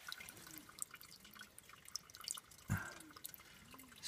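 Spring water trickles and drips steadily from a mountainside nearby, with one louder splash partway through, no voices.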